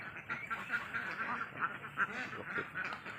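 Ducks let out to graze on grass in the evening quack softly in a scattered, overlapping chatter, faint and fairly distant with no talk over them.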